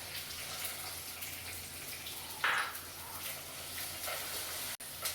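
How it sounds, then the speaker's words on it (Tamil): Shallots and curry leaves frying in oil in a pan, a faint, steady sizzle throughout with a brief brighter spatter near the middle and a short cut-out near the end. "சின்ன வெங்காயம் நல்லா வதங்கி வரட்டும்"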